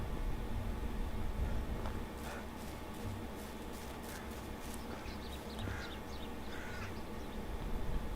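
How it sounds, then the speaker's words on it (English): Crows caw repeatedly in Medieval Dynasty, a series of harsh calls over a steady ambient background of the game world, with no speech. "I thought that there were some birds right up here."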